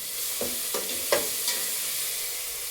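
A spoon stirs cooked rice into softened tomatoes in a pan for tomato rice, giving several quick scraping strokes at a steady pace over a soft, continuous background sizzle.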